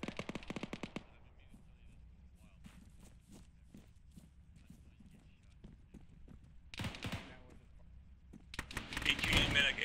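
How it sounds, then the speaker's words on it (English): Bursts of machine gun tracer fire in a military shooter video game crackle in short volleys, the loudest near the end, over low background rumble and scattered footstep-like thuds. "tracer fire due west down the road."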